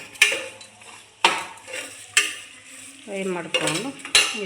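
Vegetables stir-fried in a pan for vegetable ghee rice: sharp metal spatula knocks against the pan at intervals over a soft sizzle, then quick scraping strokes, close and clear, no talk.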